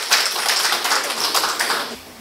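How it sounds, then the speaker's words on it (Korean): Applause from a lecture audience greeting a professor, dense broadband clapping held steady for about two seconds and then fading. "우리 황태영 교수님을 큰 박수로 모시겠습니다."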